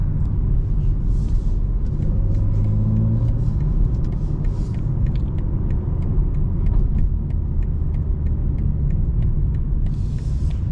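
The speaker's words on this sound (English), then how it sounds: "You can hear the intake a little bit, guys." Steady low engine drone with road rumble inside a moving 2025 BMW M4 Competition xDrive on lowered suspension, a constant throaty hum with intake sound and faint clicks and ticks over the top.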